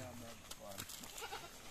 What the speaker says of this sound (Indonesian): Yan na guys, yung aming mga alagang kambing.